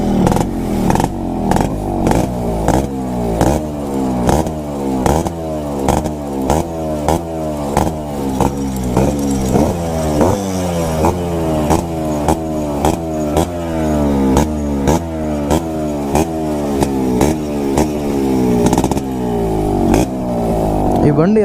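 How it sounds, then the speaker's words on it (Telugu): Yamaha RXG motorcycle with a stock silencer, its engine still settling in, starts and revs in repeated rising bursts that fall back between pulls, loud and close, with someone talking over the engine. "అది బండి స్టార్ట్ చేస్తా, సౌండ్ వినిపించుకోండి. ఏం స్టాక్ సైలెన్సర్ ప్రస్తుతానికి,"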